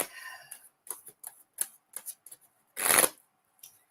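Tarot cards being shuffled by hand in repeated short riffling bursts with brief pauses, ending in one louder, longer riffle before a final soft flick; close and clear, with no talking.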